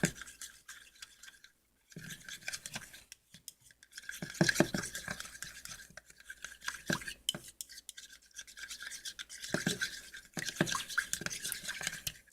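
Sticky, squelching stirring of blue sky slime mixture in a bowl, wet clicking strokes in bursts separated by short pauses, close and fairly quiet with no talking.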